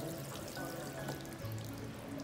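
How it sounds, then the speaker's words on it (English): Water runs steadily from a tap into a bathroom sink at a beach resort, a constant close splashing rush that lasts the whole moment with no talk over it. "Put the water on, see the water."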